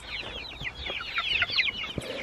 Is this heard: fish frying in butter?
no